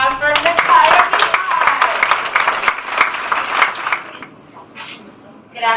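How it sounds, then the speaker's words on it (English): An audience applauds a speaker, Natalia Mihai, at an event: dense, loud clapping that sustains for about four seconds, then fades, with a voice heard briefly near the end. "Please give a warm round of applause for Natalia"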